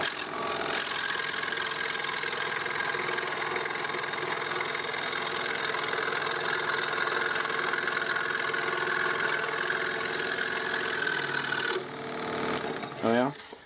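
A workshop machine cutting wood for stock boxes hums as a loud, steady mechanical drone for about twelve seconds, then winds down, and a voice is briefly heard at the end.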